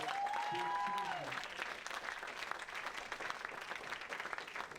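Applause at an awards night ceremony, with a brief sustained tonal sound at the start; a steady wash of clapping from a crowd continues for several seconds at moderate level.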